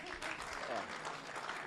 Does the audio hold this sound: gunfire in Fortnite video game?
no